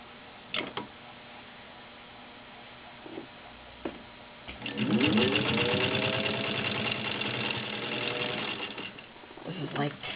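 A vintage Singer 15-91 straight stitch sewing machine runs in a steady, fast mechanical whir for several seconds, close and fairly loud, between shorter bursts and handling noises, with a person talking around it.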